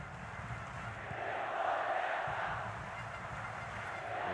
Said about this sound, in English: The crowd just upping the noise again.